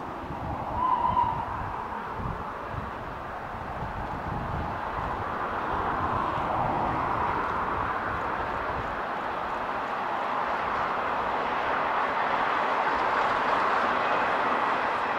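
Irish steam locomotive number 461 running tender first on the Dublin to Maynooth main line, a steady broadband rumble with rail clatter holding at moderate loudness throughout, with no clear puffs.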